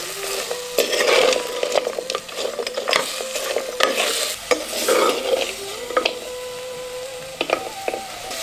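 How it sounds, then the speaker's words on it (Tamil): Goat bones being stirred and tossed with rock salt and turmeric in a pot, giving scraping, clattering bursts at an uneven rhythm, close and moderately loud with no voices. "கொஞ்சம் கல்லுப்பு, 1/2 தேக்கரண்டி மஞ்சள், ரெண்டையும் சேர்த்து எலும்பு நல்லா பெரட்டி விட்டுருவோம்."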